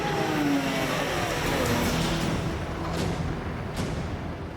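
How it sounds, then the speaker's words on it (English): A wheel loader's engine labours hard while pulling on a stiff Monster Jam truck tyre in the outback, a loud, steady mechanical roar that holds throughout with a couple of sharp knocks near the end. "The loader gives the stiff rubber all she's got."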